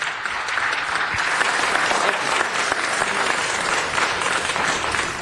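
City council chamber audience gives steady, dense applause for incoming Council Member Mike Bonin, continuous clapping at an even level for about five seconds with no talk over it.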